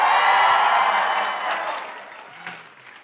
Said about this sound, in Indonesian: saya nak dengar sorakan siswa siswi ITM Sabah yeah.